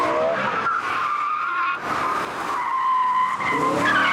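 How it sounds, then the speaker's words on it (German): A Mercedes C63 AMG drifts out of a corner on a test track, tires squealing and skidding in sustained high-pitched wails under a loud accelerating engine, close and continuous. "das Auto beim Rausbeschleunigen leicht in den Drift zu bekommen, aber ohne dass er da ausbricht"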